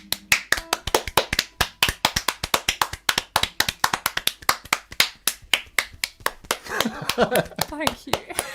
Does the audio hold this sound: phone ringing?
no